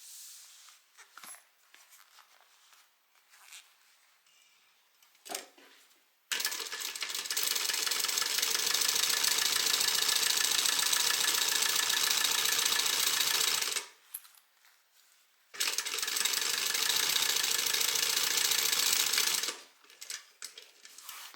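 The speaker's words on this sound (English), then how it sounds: "then sew against the zipper edge" A Lil' Hun sewing machine stitches along a zipper edge, its motor running in two sustained, steady bursts of several seconds each with a dense whirring hum, separated by quiet pauses and faint handling noises.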